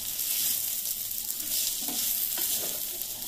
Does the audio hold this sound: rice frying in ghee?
yes